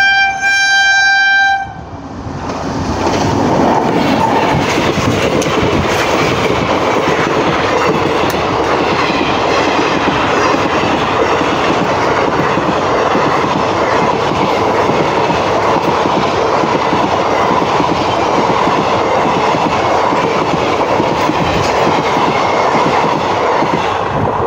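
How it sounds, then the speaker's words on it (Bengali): A train runs past a level crossing in Nabagram on the Berhampore route, opening with a long harmonic horn blast, then a loud, steady rumble and clatter of wagons that goes on close by without a break. "এই যে বন্ধুরা দেখতে পাচ্ছেন এই যে ওই যে ট্রেন আসছে"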